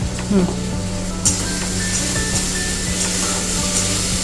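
Spices with ginger paste, salt and turmeric sizzle steadily in a hot pan during egg biryani cooking, with a few scraping stirs over the continuous frying hiss.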